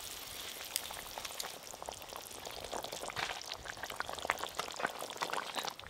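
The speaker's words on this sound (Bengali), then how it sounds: "এই যে ঝোলটা ফোটা শুরু হয়ে গেছে" Curry gravy bubbling in a pan with fried cabbage about to go in, a dense, continuous crackling and popping simmer heard up close at a moderate, even level.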